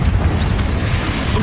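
A Confringo explosion spell cast in Hogwarts Legacy, heard as a loud, continuous deep rumbling boom that fills the whole moment with no pause.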